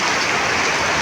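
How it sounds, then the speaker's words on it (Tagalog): Steady rain pours down in a rural province, a dense, even hiss of drops that fills the whole short stretch with no break and no voices. "Umuulan na talaga."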